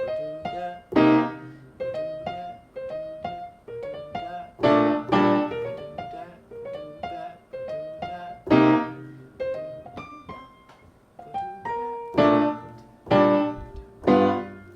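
Jazz piano comps with short, syncopated chords in the gaps of the melody, leaving silences between clustered stabs with a loose, swinging rhythm; no one speaks.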